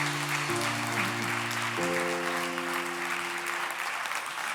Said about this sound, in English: please keep that round of applause going